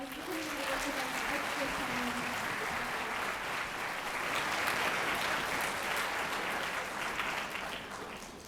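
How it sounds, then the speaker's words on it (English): Audience applause for a drumming group at a school orchestra concert, a steady wash of many hands clapping throughout, with a voice speaking briefly at the start. "Let's give them one more round of applause"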